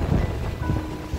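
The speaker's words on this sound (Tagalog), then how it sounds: "Napakalakas ng alon." Strong ocean waves pound Nasugbu Beach during a typhoon, a dense, continuous roar of churning surf with heavy low rumble and wind buffeting the microphone.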